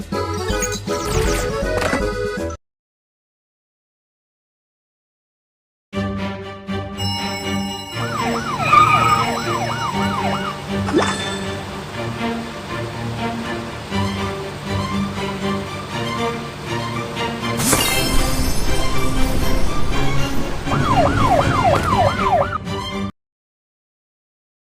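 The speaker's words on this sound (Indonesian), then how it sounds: "Petugas pemadam kebakaran Kiki ada di sini untuk memadamkan api." Wailing fire truck siren in a Babybus kids video game, cartoonish and rising and falling over bright game music, cutting in and out with silent gaps, loud and close.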